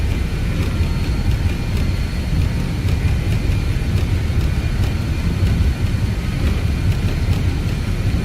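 A BAE 146-300 jet in a flight simulator builds up a long takeoff roll, a dense, steady engine roar with rumble, loud and unbroken throughout.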